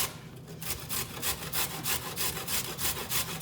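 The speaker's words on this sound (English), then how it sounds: "Next step is carrot. Make sure you peel it" A peeled carrot is rubbed against a grater for curtido, making rapid, rhythmic rasping strokes, about four per second, close and fairly loud with no talking.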